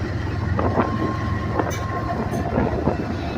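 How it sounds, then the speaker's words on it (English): A freight train with locomotives rumbles into a rail yard with occasional clanks and a faint metallic squeal, a steady low roll at moderate distance. "Alright, got train coming back into the yard."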